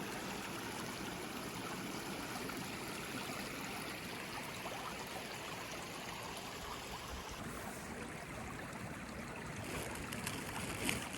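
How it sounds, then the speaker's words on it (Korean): Continuous rushing water of a stream along the Camino de Santiago in Spain, a dense steady flow with no one speaking, running evenly throughout. "물소리 대박."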